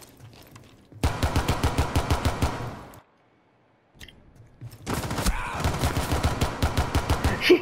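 Rapid pistol gunfire in Rainbow Six Siege, two loud bursts of quick shots with a short silent gap between them, close and alone without talk.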